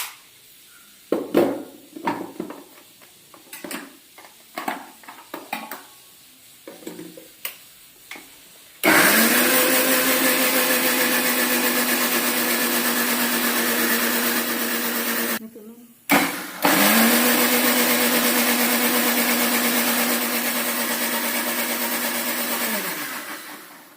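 Garlic ground with water into a paste in an electric mixer grinder: a loud, steady motor whine runs continuously, dips briefly as it stops and restarts, then continues, with scattered clatter and voices beforehand.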